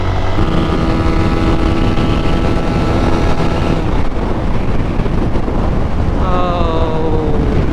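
A KPR 165 motorcycle tears across the Meghna bridge in fifth gear at about 122 km/h, its engine drone buried under heavy, constant wind roar at the microphone throughout.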